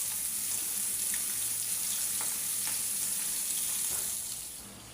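Fish with two pieces of brinjal beside it frying in a pan of oil gives a steady, fairly quiet sizzling hiss with faint occasional pops, fading slightly at the end.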